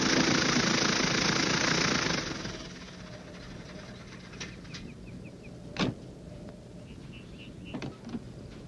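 A vehicle engine runs steadily, loud at first and then settling to a lower idle with a few small knocks and clunks, outdoors at the foot of the Alborz Mountains in northern Iran.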